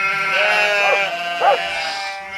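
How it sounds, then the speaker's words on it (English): A sheep bleats twice in a grassy meadow, each call a wavering, nasal cry rising and falling, fairly close over a steady tonal background. "Just ahead was the meadow where Ben's sheep were grazing."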